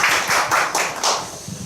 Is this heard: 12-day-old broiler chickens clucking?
no